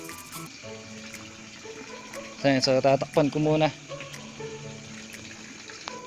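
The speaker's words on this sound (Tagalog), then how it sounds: "Ayan yung tubig ko. So umaagos pa yan papunta dun sa ating bahay." Water flows steadily from a pipe outdoors at night, a continuous close trickle and splash that runs throughout while a person talks over it.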